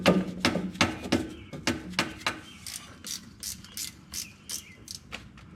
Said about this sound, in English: I do have a ratchet wrench here.